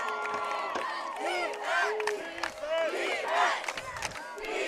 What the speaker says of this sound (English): So it's that crowd noise.